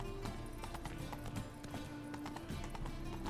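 Hooves of the horse Roach clip-clopping at a gallop in The Witcher 3, a quick steady rhythm of close, soft thuds over a continuous bed of game music and ambience.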